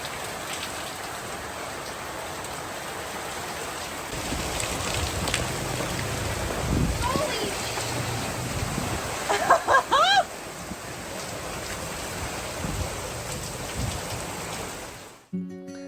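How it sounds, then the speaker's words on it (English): Heavy rain pours down steadily on a yacht, a dense hiss of drops drumming on surfaces throughout, with a few brief clucks from fowl partway through. "And that evening, the heavens opened."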